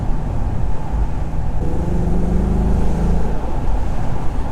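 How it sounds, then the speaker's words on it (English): A 2018 Ford Mustang Shadow Edition's 5.0-litre V8 runs at a steady, loud, deep rumble, heard from inside the car, with a faint rising whine partway through and no talking. "the 5 litre V8 is one of the most iconic engines"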